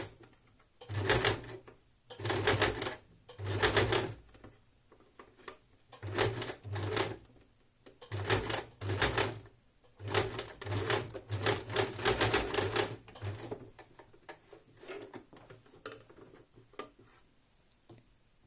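A sewing machine topstitching a front pocket runs in repeated short bursts of rapid mechanical stitching with brief pauses between them, close and clear with no voices.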